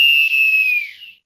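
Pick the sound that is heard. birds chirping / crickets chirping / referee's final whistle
referee's final whistle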